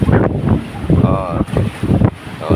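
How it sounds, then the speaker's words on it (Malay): Wind gusts over the sea aboard a boat on a cloudy, breezy day, a loud buffeting rush with microphone wind noise, while someone talks over it in short bursts. "Ni berangin ni kan, cuaca mendung berangin."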